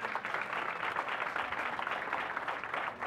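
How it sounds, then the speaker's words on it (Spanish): Steady applause from guests at a quinceañera celebration, a dense, even wash of many hands clapping together without a break and no talking. "Un fuerte aplauso al Señor."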